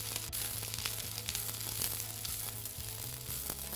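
Onions and capsicum stir-frying in a hot pan for shaking beef, a crackling sizzle broken by rustling tosses and scrapes, close and fairly quiet, no talking.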